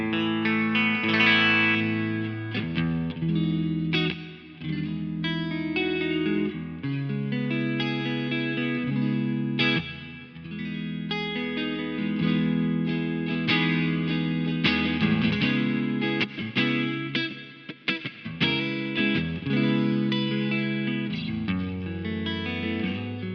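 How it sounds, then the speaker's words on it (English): Clean electric guitar plays a flowing series of chords and picked notes, bathed in spacious reverb, steady and moderately loud throughout. "Lovely clean sound with lovely reverb."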